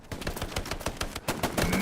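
An StG assault rifle in Hell Let Loose fires rapid bursts of sharp, evenly spaced shots, moderately distant and fairly quiet, in a steady automatic rhythm with a short pause near the middle.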